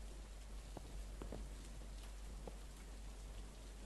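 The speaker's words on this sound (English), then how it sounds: "It's raining, and the rain definitely has a play on your driving." Rain falls in the video game Trader Life Simulator as a soft, steady hiss. It is quiet and continuous, with a few faint drop-like taps and no voices.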